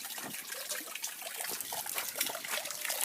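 Water runs constantly from an open pipe with no tap fitted, a close, steady trickling and splashing stream with small irregular bursts, no speech.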